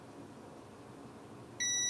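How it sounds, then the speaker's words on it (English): A multimeter in continuity mode lets out a short, steady electronic beep as its probes touch, tested on a Nintendo Switch circuit board. The beep cuts in loud and clear near the end after faint background hiss. "So I have my multimeter in continuity mode, so when I touch these two probes, we get a beep."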